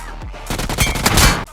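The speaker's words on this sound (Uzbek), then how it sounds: "protivnik bilan otishma qilishingiz kerak bo'ladi" Rapid bursts of automatic gunfire from a shooter game, PUBG Mobile, crackle loud and close in a dense string of overlapping shots across the clip, with no talking over it.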